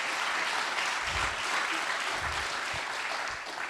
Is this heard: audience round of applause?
yes